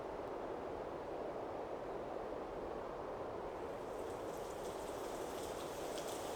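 Steady rain of ash-laden water falling in a farming video game, a continuous even hiss of drops on surfaces, moderately close and unbroken, with no talk.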